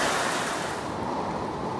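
Heavy rain pouring down in a sudden flash storm, a loud broad rushing wash of water that eases slightly over a couple of seconds.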